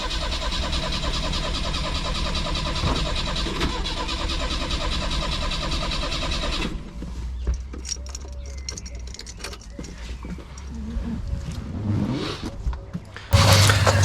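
A Peugeot 304 Cabriolet engine cranks with a steady, rapid churning for several seconds, then gives way to quieter mechanical sounds and a brief louder burst at the end.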